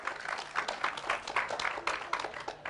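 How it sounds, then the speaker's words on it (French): An audience applauds a performer named Fatoumata at a spoken-word declamation show, producing steady, dense clapping that carries on throughout at moderate loudness with no talking. "un tonnerre d'applaudissements pour Fatoumata"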